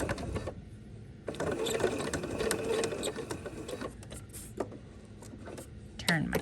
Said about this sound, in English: stitch right next to my basting line